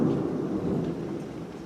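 Deep rolling thunder from a passing supercell storm with rain, a sustained low rumble that holds steady and slowly eases, fairly loud and alone.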